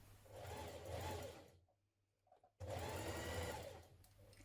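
A sewing machine stitches a 1.2 cm seam along the raw edge of jumpsuit ties, running steadily, then pausing for about a second and starting up again at the same close, even hum.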